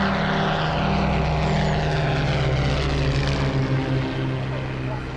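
Restored Spitfire fighter taking off, its propeller engine giving a loud, steady roaring drone at a moderate distance, with faint voices underneath.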